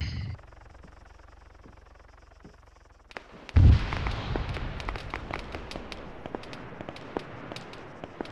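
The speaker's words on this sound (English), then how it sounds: "There's a bloody armed marid shooting." Gunfire from an armed Marid vehicle in a video game: after a quiet stretch, a loud close burst hits, then a steady stream of sharp, rapid reports and pops continues to the end.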